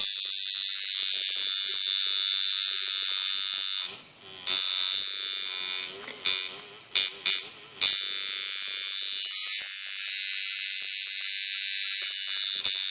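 A coil tattoo machine runs close and loud as a steady, high electric buzz. The buzz briefly stutters and dips a few times partway through, then carries on evenly, with no talking.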